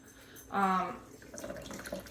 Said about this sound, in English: See how much water comes out just by squeezing it like this